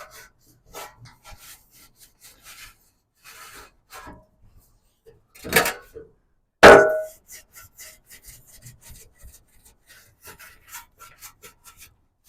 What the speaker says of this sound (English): And I personally use this sanding block.